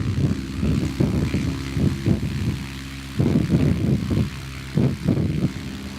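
A biplane engine at the Flying Circus Air Show gives a loud propeller drone that swells and dips in repeated pulsing bursts, fairly close and steady throughout.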